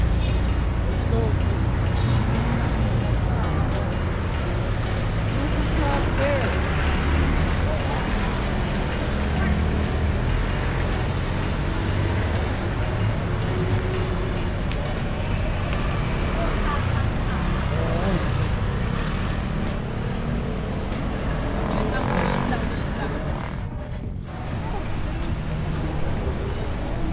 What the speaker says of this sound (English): Traffic is insane here